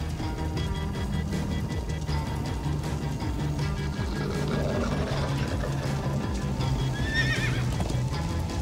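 Galloping horses from the Minecraft Story Mode video game, hooves clip-clopping in a steady rhythm under a game score, with whinnies breaking through near the end, loud and sustained.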